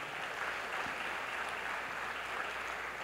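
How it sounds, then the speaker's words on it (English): Steady applause for an award recipient honored for over 30 years of service at an Indian Arrival Day celebration, a continuous even patter of clapping from a crowd with no voices. "Let's give her a round of applause, please."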